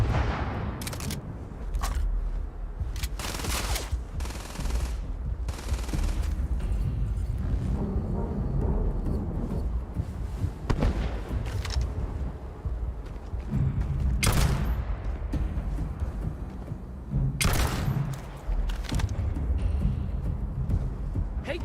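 Bursts of gunfire in Starfield as a player shoots at an alien creature, with loud repeated shots in irregular clusters across the stretch over a rumbling game background.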